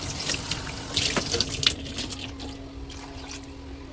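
Water pours from a tap or mug into a cooking pot of food on the stove, a steady splashing stream that is loudest early, then settles into a softer trickle with a few drips near the end; no voices.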